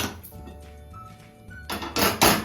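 A metal pan set down on a kitchen stove, with a few soft clinks early on, then two louder scraping clanks of metal on the burner near the end, close and with no talking.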